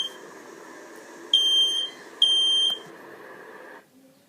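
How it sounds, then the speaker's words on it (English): A home smoke alarm sounds two loud electronic beeping bursts over a steady background hum, each lasting about half a second, before the hum cuts off. "the warnings sounded by the ringing fire alarm bell installed in your home"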